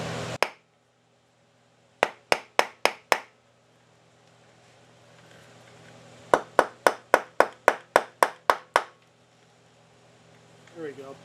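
Sharp, close taps on a brake part of a 1999 Honda FourTrax 300 rear brake during a rebuild, a quick burst of four and then a run of about eight, with quiet gaps between.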